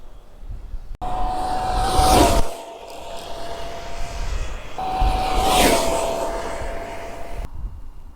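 A fast RC car on a 2S LiPo battery runs at full throttle, its high electric whine roaring up loud and close in two separate fly-by passes, each swelling then dropping away, with a steady buzzing tone between them.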